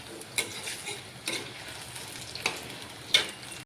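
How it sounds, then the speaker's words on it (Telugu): Ivy gourds frying in hot oil give a soft, steady sizzle with a few sharp clicks and scrapes spread through it, close by and with no voices. "పొయ్యి మీద ఆయిల్ పెట్టి ఇలాగా మనం దొండకాయలు వేపుకోవాలి."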